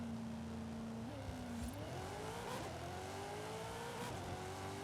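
A rear-wheel-drive drag car in Forza Horizon 5 accelerates hard near red line, its engine pitch climbing steadily through gear changes with a rising, sustained whine and rasp.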